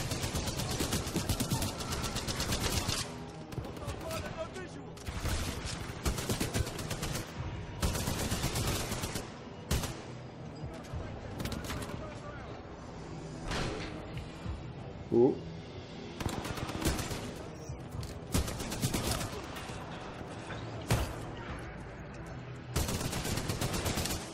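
Spitfire light machine gun from Titanfall 2 firing in long sustained bursts of rapid, loud shots, broken by short pauses, with a faint voice now and then under the gunfire.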